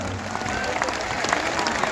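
Applause from a crowd at a Hindu religious gathering in Orchha, steady dense clapping that fills the whole moment, fairly loud and close, with a faint voice mixed underneath.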